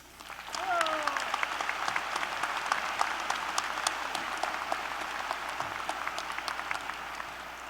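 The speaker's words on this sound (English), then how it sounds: "you guys have been clapping for everybody else" An audience at a spring university commencement applauds steadily, a broad crowd of clapping hands rising quickly and holding at moderate level, with a few brief voices and whistles early on.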